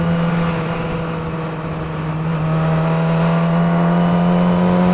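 A 600cc inline-four sportbike engine holds a steady, loud, high-pitched drone up close, dipping slightly and then climbing again as it revs, with no voices over it.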